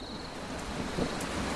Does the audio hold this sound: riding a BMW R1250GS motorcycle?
no